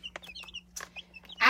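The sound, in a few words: baby chicks peeping in a brooder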